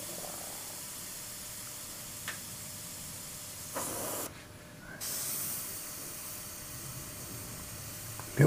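An airbrush sprays thin paint with a steady, close hiss of atomizing air. The hiss drops out briefly partway through, then resumes, and there are a couple of small clicks.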